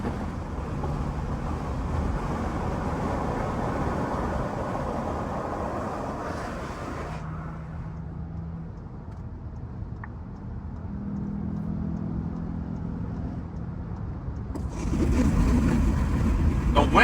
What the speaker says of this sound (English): The wind noise is really crazy.